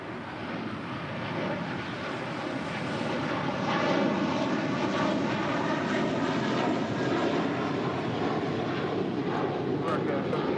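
An airliner roars down runway 25 right on takeoff, a broad, steady jet rumble that swells slightly and holds loud and continuous for about ten seconds, with no talk over it.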